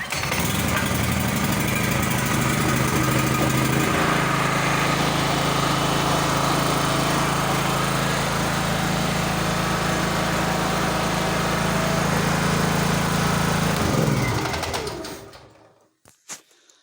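A petrol generator engine runs steadily and loudly for about fourteen seconds, its tone shifting slightly near four seconds, then winds down and stops, followed by a few faint clicks.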